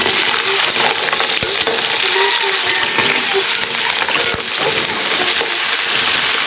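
Mussels land in a pan of sautéed tomatoes and a loud, close sizzle follows. The frying hiss runs continuously, broken by a few sharp clicks and scrapes, and nobody speaks.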